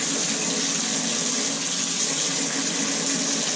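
Water runs steadily from a Moen tub and shower faucet with a clogged cartridge, a close, continuous hissing gush that holds level throughout without pause.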